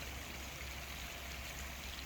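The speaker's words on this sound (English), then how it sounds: "The streams are flowing, the water's bubbling." A garden stream flows and bubbles steadily among rhododendrons and azaleas, a soft continuous water rush at even level throughout with no voices.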